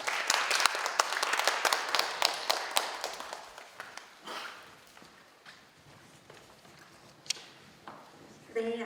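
Audience applause welcoming a speaker at a city cultural program briefing hall, a moderate round of clapping that is strongest at the start, then fades into sparse claps and a few footsteps before a voice begins.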